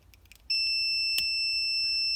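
A continuity tester emits a steady, loud electronic beep, starting abruptly and holding unbroken while probed across a vintage Mopar semi-automatic transmission governor switch, with a brief click midway.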